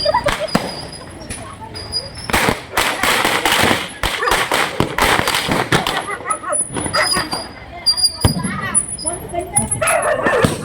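Diwali firecrackers pop and crackle in sharp loud bursts at night, some in quick clusters, while a dog barks and whimpers nearby and people talk over the commotion.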